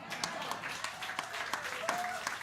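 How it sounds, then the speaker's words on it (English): An audience at a cabaret night at the Metropolitan Room applauds, a steady spatter of clapping at moderate distance that stays fairly soft and even across the short stretch. "Go ahead, you can applaud now."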